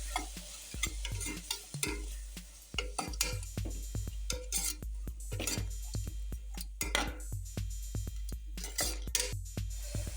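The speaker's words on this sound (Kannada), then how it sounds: "ಈರುಳ್ಳಿ ಮತ್ತು ಟೊಮೊಟೊವನ್ನು ಸೇರಿಸಿ ಸ್ವಲ್ಪ ಮೆತ್ತಗಾಗೋವರೆಗೂ" Onion and tomato fry in a pan for vegetable pulao, a steady sizzle under repeated scraping and clinking of a stirring spoon against the metal, close and moderately loud, with no talking.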